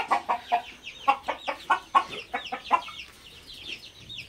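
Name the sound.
Colombian Brahma rooster clucking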